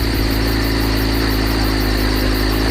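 A steady motorcycle engine drones continuously at close range, a constant low rumble with a buzzy mechanical hum and no talking.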